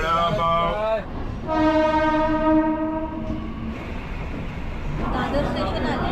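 Train horn at Dadar station in Mumbai, a long loud steady blast with stacked harmonics lasting about two seconds, framed by station bustle and a voice before and after.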